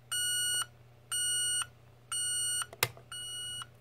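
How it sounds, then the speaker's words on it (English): A 1982 Sears Model 47201 electronic alarm clock, set to high volume, beeps loudly in four evenly spaced half-second bursts, with a brief click between the last two. "There's the alarm for you at 12:05. Currently it is set at high."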